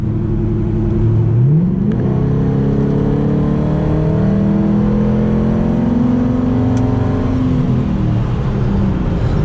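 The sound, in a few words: 2005 Ford Mustang GT accelerating on a 50 mph roll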